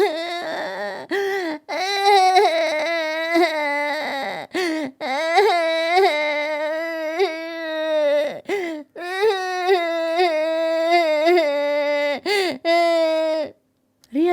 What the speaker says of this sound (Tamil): எங்கிருந்தோ ஒரு குழந்தையோட அழுக சத்தம் அந்த வீடு முழுக்க எதிரொலிச்சது